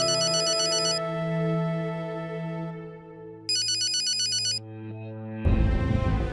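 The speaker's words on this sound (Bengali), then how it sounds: "জামাই ফোন দিছে মনে হয়, কথা কস না কেন? ফোন ধর।" A mobile phone ringtone plays in bursts of bright electronic tones over a sustained melodic backing, pausing and restarting, fairly close and clear with no talking.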